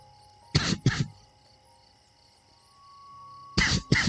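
Two pairs of short, sharp coughs, the first near the start and the second near the end, separated by a quiet stretch with a faint steady background hum.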